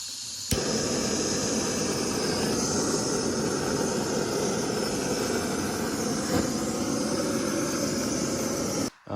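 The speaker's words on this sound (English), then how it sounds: "I just heated up the gear with the blowtorch" A blowtorch heats a differential gear for a drifting limited-slip differential build, giving a steady, loud roaring hiss that runs unbroken for about eight seconds before cutting off abruptly.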